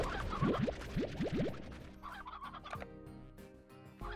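Chickens in the Slime Rancher video game clucking and squawking in quick bursts, fairly close, followed by quieter scattered clucks and a steady background hum.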